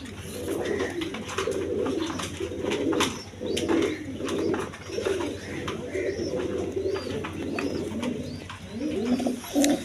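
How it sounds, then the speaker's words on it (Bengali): Pigeons coo continuously in overlapping low, throaty calls at a Bangladeshi pigeon market or loft, with occasional chirps above, moderately loud and steady throughout, with no one speaking. "দেখেন ভালো জাতের কবুতর, যার পছন্দ নিয়ে নেবেন, দুইটা বাচ্চা সহ নিতে পারবেন।"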